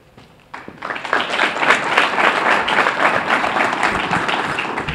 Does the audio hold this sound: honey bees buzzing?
no